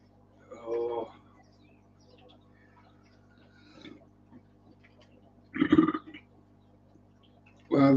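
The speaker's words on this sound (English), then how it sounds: "if I rip a good burp off, it just distorts the microphone" A man lets out several short, loud burps spaced apart over a quiet room hum, the last one cut off at the end.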